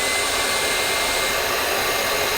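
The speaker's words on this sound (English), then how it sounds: "we're going to hook up that hair dryer" A hair dryer runs on high while powered by a Bluetti AC200L power station, giving a loud, steady, unbroken rushing whir of fan and airflow close by, with no talking.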